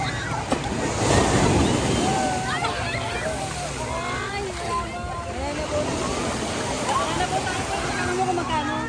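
Steady wash of ocean surf at a beach resort in Real, Quezon, Philippines, with waves breaking continuously, mixed with wind, while several people chatter nearby in Filipino.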